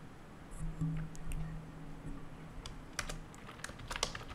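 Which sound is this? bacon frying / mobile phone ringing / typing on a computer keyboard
typing on a computer keyboard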